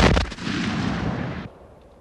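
Muskets fire in a single volley on command during a reenactment drill, one loud booming crack that rolls into a short echoing rumble before cutting off.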